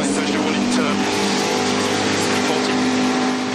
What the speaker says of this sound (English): the engine is fired up